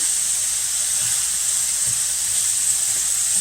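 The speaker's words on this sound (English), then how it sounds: "And we're just moving it around in the pan, making sure the oil is coating it." Squash, cut for an avocado-zucchini spread, cooks in oil in a pan, giving a steady, even frying hiss that stays close and constant throughout, with no voices.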